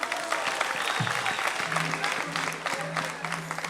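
Applause from a crowd at a public gathering in Kigali, Rwanda, a steady wash of clapping that runs the whole time, with low tonal sounds and voices beneath it.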